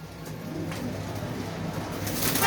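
Golden teddy breeder pigeons coo in low, soft, repeated calls, steady and fairly close, over a constant background hum.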